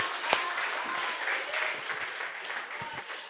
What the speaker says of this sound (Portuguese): Pode aplaudir quem recebe a graça de Jesus.